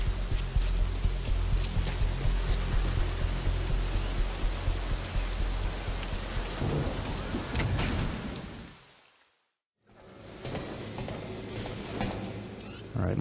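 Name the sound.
rain at Mother Base in the video game Metal Gear Solid V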